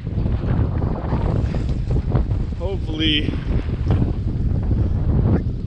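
Steady wind at an exposed spot on a massive rock pile esker buffets the microphone with a constant roaring rush, while a person speaks briefly over it.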